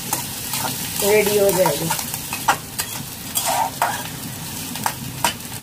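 Masala tempering for moong masoor dal frying in a little oil until brown, with steady sizzling, occasional spoon stirring and scraping clicks, and a brief voice near the end.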